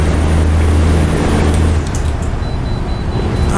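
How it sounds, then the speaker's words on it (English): Road traffic in American Truck Simulator, with cars approaching on a highway while a truck engine hums low and steady, loud at first and then thinning out. "Couple cars coming, but we should be able to sneak on the highway before they get here."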